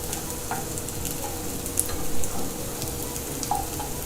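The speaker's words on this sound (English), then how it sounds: "You got to be gentle when you're turning the cutlets over" Vegetable cutlets fry in a pan with a continuous close sizzle, while a few soft taps and scrapes come from the cutlets being turned.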